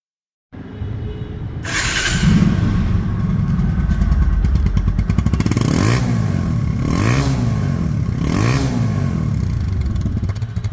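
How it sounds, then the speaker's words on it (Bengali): A 2022 TVS Apache RTR 2V motorcycle engine starts up and runs steadily nearby, with repeated revving swells of the throttle over a constant mechanical clatter. "এখন গাড়িটির সাউন্ড শোনাবো সাউন্ড শুনলে আপনারা বুঝতে পারবেন যে গাড়ির ইঞ্জিন কোয়ালিটি কেমন আছে"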